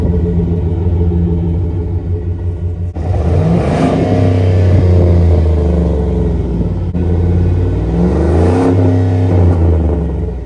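A Chevrolet Silverado's 6.6-liter gas V8 turns over and catches outdoors, then idles with a steady low rumble and rises in two revs, loud and near, with no talking.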